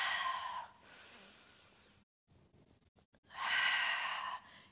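Audible exhales during a guided floor exercise with a twisting hip and leg lift, two long airy breaths separated by a quieter pause, close and moderately loud.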